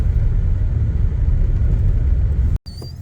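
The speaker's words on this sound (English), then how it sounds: "We are officially on the gravel now, so almost home." Car rolling along a gravel road toward a rural homestead, a steady loud low rumble of tires and engine from inside the cabin, briefly cutting out near the end.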